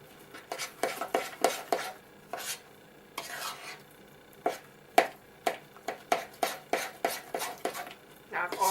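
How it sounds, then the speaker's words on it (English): Black bean burger ingredients are stirred together in a bowl, giving a run of rhythmic scraping and clinking strokes. The strokes pause briefly, then resume quickly and close up, with no talking. "I'm going to mix everything together here."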